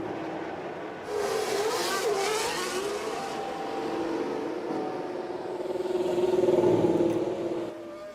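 F1 cars heading out on track at Shanghai in the F1 Manager 24 racing game: high engine whines sweep up and pass from about a second in, then a sustained engine drone rises toward the end.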